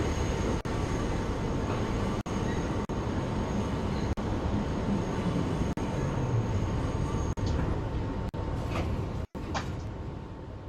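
A Brooklyn-bound 5 subway train in a Roblox game runs with a steady, loud rolling rumble, broken by brief clicks and a few sharp clunks near the end, and no voices over it.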